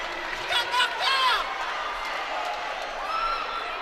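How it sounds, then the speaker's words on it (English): Holy Cross fans in a high school basketball gym in Richmond, Kentucky, raise a noisy crowd roar with a few whoops and shouts rising above, a steady murmur filling the rest. "The Holy Cross crowd behind us"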